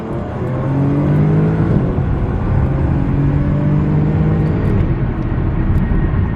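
A Stage 1 tuned Audi B8 S4 accelerates hard from a green arrow, its engine note loud and close as the pitch sweeps upward through the gears, with a steady, continuous roar and no talk over it.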